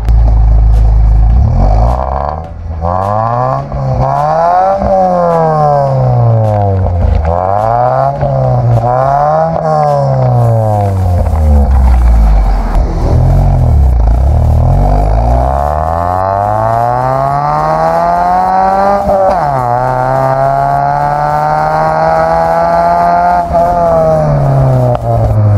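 A Chevrolet Aveo fitted with an Xplode exhaust and header revs repeatedly, its engine note climbing and falling in long sweeping pulls, loud and close throughout with no talk over it.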